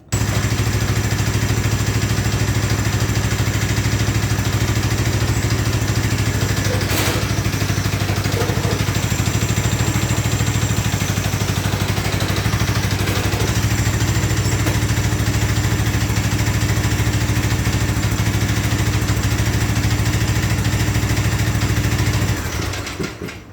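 A Craftsman LT2000 lawn tractor's small engine, warmed up, idles steadily and loudly up close, a constant low drone with a few faint clatters before it cuts off at the end.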